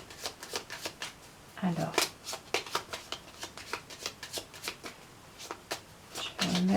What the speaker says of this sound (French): Je vais remettre sur les cartes négatives des cartes. Je vais les recouvrir.